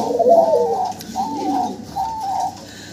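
A small diamond dove, a kind of ghughu, gives three soft cooing phrases close by, each a short rolling coo with brief pauses between, with no voices.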